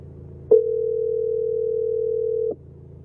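A single steady telephone ringback tone sounds during an outgoing call: one flat, unbroken electronic beep lasting about two seconds over a faint background hum, with no voices.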